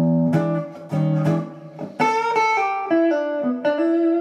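An electric guitar plays a blues lick alone, mixing strummed chord stabs with single melodic notes in a loose, steady rhythm, clear and close.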